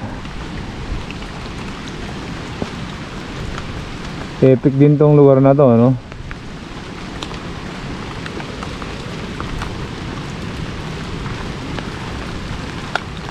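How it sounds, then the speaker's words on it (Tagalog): Steady rain hisses on surfaces at a coastal view deck between Laoag and Claveria, Cagayan, with a brief spoken remark partway through and a few heavier drips. "Malas lang dahil umuulan."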